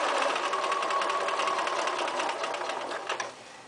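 A sewing machine runs steadily, stitching elastic into the waistline casing of a pair of pants, a fast even whir up close that slows and stops near the end.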